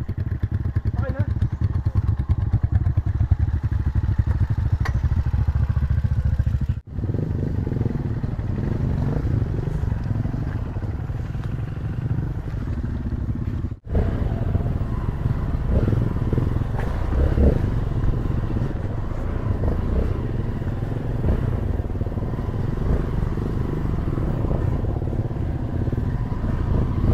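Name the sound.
motorcycle struggling through mud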